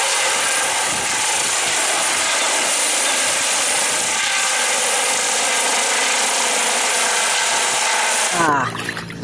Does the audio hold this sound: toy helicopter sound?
yes